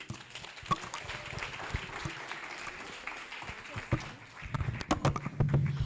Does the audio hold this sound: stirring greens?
no